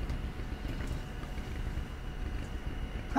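A car engine runs in a mechanic's garage in the VR game Job Simulator, giving a faint, steady low rumble with no other sounds.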